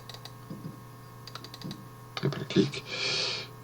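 Scattered keystrokes clatter on a computer keyboard, a few sharp clicks in small bursts with pauses between, close and fairly quiet.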